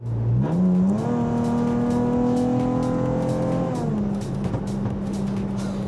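A sports car engine revs and holds a sustained, rising exhaust note, with short sputtering popcorn crackles as it drops back, close and loud with no talking, in Dubai.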